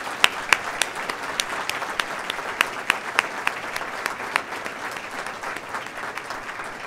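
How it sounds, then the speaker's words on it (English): The crowd at the University of Dayton 2014 Alumni Awards ceremony gives award recipients a sustained round of applause, a steady wash of clapping with several sharp, loud individual claps standing out near the front. "I think we should give all of our award recipients one more final round of applause"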